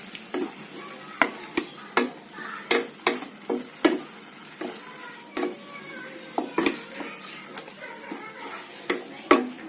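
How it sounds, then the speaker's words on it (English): Grated coconut and milk are stirred in a pan for coconut ladoo, with repeated sharp scrapes and clinks of a spatula against the pan over a soft sizzle, close and rhythmic, no talking. "You have to stir this continuously till the milk gets absorbed."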